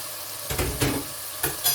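Sliced chili goes into a sizzling pan of frying sauce for ilisha fish, giving close, bursty hissing and stirring scrapes in short uneven bursts over a brief moment.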